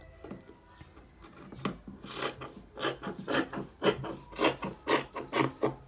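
Fabric for the back panel of a designer button shirt being cut, a series of crisp, raspy snips in a steady rhythm that grow louder and more regular toward the end, close up with no talking.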